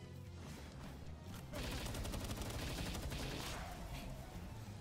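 Rapid machine gun fire in PalWorld rattles out as a dense burst of closely spaced shots, fairly quiet overall, intensifying partway through and continuing steadily to the end with no talking.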